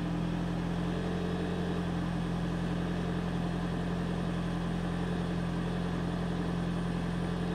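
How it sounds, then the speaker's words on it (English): Toyota Prius hybrid engine running just after starting, a faint, steady low hum with constant drone and no change in pitch, heard alone without talk. "Wait now, engine started."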